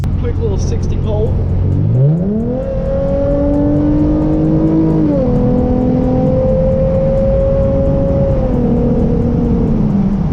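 A 2013 Hyundai Genesis Coupe 3.8 with a straight-pipe exhaust accelerates hard from close by, its engine rising in pitch through the gears into a loud, steady drone.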